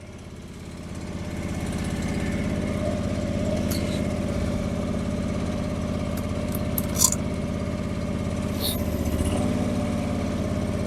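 A John Deere 445 garden tractor engine runs at a steady idle with a constant droning hum that stays loud and close throughout, with no talking.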